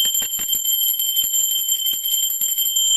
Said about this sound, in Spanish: Clara le gusta más el sonido de la campana